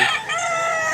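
A single loud, close crow from an orange-feathered rooster just over a year old, a game fowl in Mantalungon, Cebu, ringing out alone and filling the brief moment.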